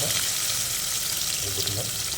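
Garlic and onions frying in oil for a potato and cabbage poriyal, a steady broadband sizzle with faint stirring underneath, close and continuous throughout.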